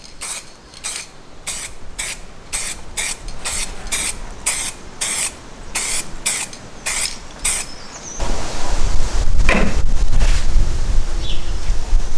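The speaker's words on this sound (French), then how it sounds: "un coup de bombe de peinture, sur le tout" Rapid bursts from a spray paint can hiss in a quick series, then give way to a longer, louder continuous spray with some rattling.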